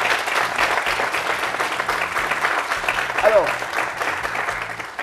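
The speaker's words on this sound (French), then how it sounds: "Applaudissez-vous, applaudissez-vous." A young audience at a French youth-employment debate breaks into sustained applause, dense clapping filling the room throughout, with a host speaking over it.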